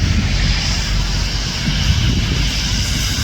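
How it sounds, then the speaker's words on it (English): An EasyJet airliner takes off from a runway at Schiphol Airport, a loud, steady jet engine roar heard from a distance and filling the whole stretch without letting up. "EasyJet on the other takeoff runway"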